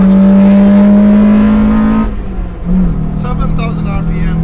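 A modified 1999 Honda Civic Type R engine runs loud and steady with a sustained high drone, then eases off and picks up again with shifting tone, with talk over it.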